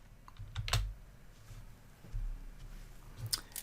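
A few soft keystrokes on a computer keyboard, close and quiet, spread across a short stretch of otherwise calm background with no talking.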